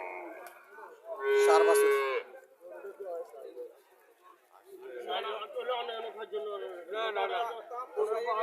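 A Haryana cow moos loudly in one long call at a busy cattle market, with nearby people talking before and after it amid crowd chatter.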